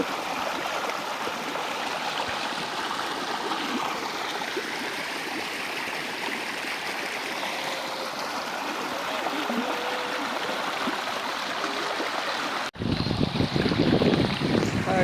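Rushing Jamuna floodwater pours and flows through a village during the monsoon, a dense continuous roar close to the microphone with wind buffeting, growing louder and harsher in the final seconds.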